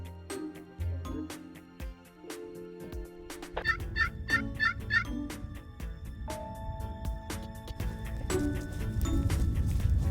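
Wild turkey toms gobbling in a large wheat field in Kansas on a cold day, with several short rattling gobble bursts rising from a steady outdoor background and growing noisier toward the end.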